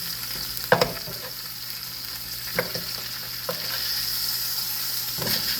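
Hamburger steaks frying in a pan give a steady close sizzle throughout, broken by a few soft knocks and scrapes as a spatula flips them, with no talk.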